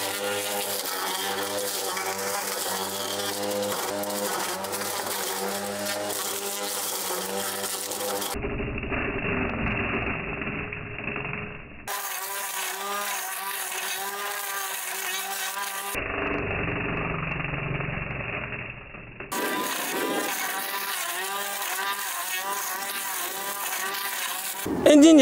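A Greenworks cordless battery brush cutter fitted with a two-tooth blade cuts through thick, tough weeds and stiff stems. Its steady high whine runs throughout, with two brief drops as the motor eases off between passes.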